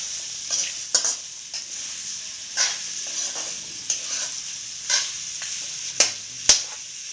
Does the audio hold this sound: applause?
no